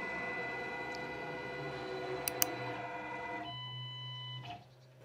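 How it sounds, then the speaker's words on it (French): Wattsan 0609 CNC router homing its spindle on the Z, X and Y axes, a steady motor whine that shifts pitch partway through, with a couple of tiny clicks, then winds down and stops. "là, la broche va aller en butée sur l'axe Z, sur l'axe X et sur l'axe Y pour faire son zéro machine"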